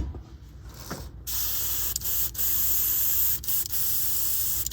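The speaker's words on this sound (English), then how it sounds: "Give it a little spray of" Cleaner sprayed from a spray bottle to flush violet paint out while building a Tamiya Ducati Superleggera V4 model; a close, steady hissing spray starts after a second and runs on with a few short breaks.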